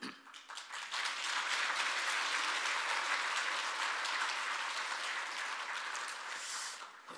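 Sustained applause from a church congregation at a special dawn prayer service, a dense steady wash of many hands clapping that swells quickly and holds loud and even for several seconds before easing slightly at the end.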